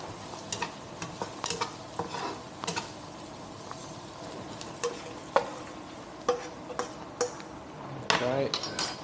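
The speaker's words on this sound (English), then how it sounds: "Just want to cook the onions a little bit" Onions with turmeric stirred in a pan for an Indian restaurant-style curry, giving a soft continuous sizzle broken by repeated scraping clicks and knocks of the utensil against the pan.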